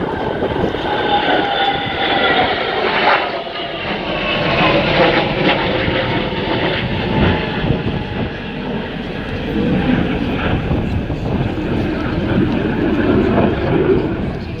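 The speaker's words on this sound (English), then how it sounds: "So we welcome Sweden to NATO with this flight past of Voyager" An RAF Voyager tanker and Swedish Gripen jets fly past at an airshow, a loud, sustained jet roar swelling and fading over about fifteen seconds while a commentator talks over it.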